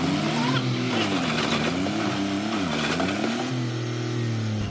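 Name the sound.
tractor engine revving while stuck in mud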